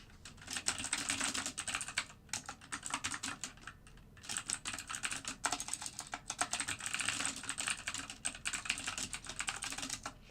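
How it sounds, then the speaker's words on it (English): Fast, steady typing on a computer keyboard during live automated algorithmic trading, a continuous soft clatter of keystrokes with brief pauses, fairly quiet and with no talking. "Sorry for the typing."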